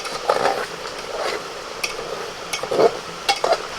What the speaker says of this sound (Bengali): কোনটি সোজা করে এরকমভাবে নাড়াচাড়াটা করতে হবে যাতে নিচে লেগে না যায়